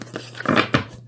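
A deck of tarot cards is shuffled in a few quick bursts, close crisp riffling and papery flutters with short gaps between them.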